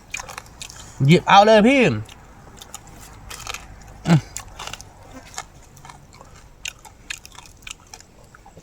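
Crunchy biting and chewing of grilled field rat caught in the forest, a few crisp crunches and soft chewing close up, with people talking loudly nearby.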